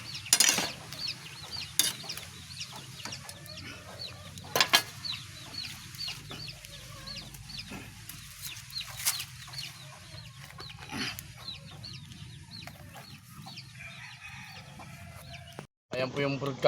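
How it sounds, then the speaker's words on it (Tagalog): A broodcock rooster, just let out of its cage on a farm, clucks in scattered short bursts with occasional sharp calls, fairly near, over steady outdoor background noise. "Ayan po yung broodcock natin, nilabas muna natin ang kulungan"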